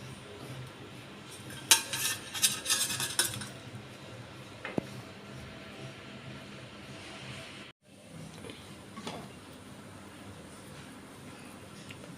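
A crispy tomato dosa is lifted off a hot pan, with a burst of sharp metallic scraping and clinking of a spatula against the pan, then quieter scrapes and a soft background hum; no one talks.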